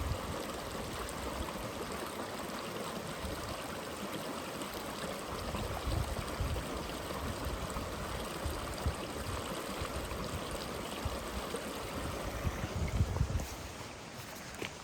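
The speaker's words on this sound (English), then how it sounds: "Nice little section of Spring Creek." Spring Creek flows steadily past a campsite at Perry South Campground on the Metolius Arm, a close, continuous rushing and babbling of water that holds even throughout, with no voices.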